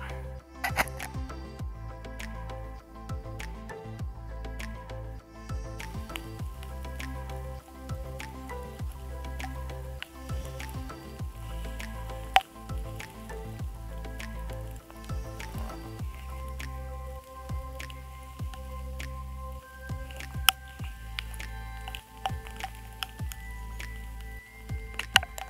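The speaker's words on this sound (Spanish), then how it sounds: "Sigue lloviendo a saco." Heavy rain falls steadily in a pine forest, with a dense patter of drops hitting leaves and ground and many sharp close drips over a constant wash, no talking.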